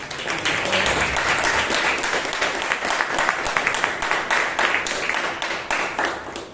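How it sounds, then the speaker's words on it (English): A large crowd at a Toastmasters meeting claps steadily and loudly throughout, a dense wash of applause with no voices standing out. "I think she really deserves a big round of applause."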